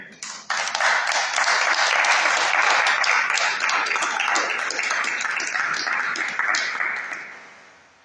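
A church congregation breaks into loud, sustained applause, a dense wash of many hands clapping close by that holds steady for several seconds and then fades out.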